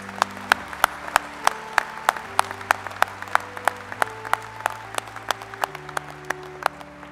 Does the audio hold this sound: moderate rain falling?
no